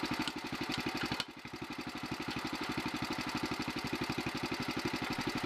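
A 1961 Bolens Ride-a-matic garden tractor engine runs steadily while the tractor moves forward in gear. It gives a close, even, rapid chugging putter with no talk over it.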